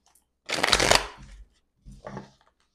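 Tarot cards are shuffled for a reading: a close riffle burst of about a second, a pause, then a shorter second shuffle, with no talk.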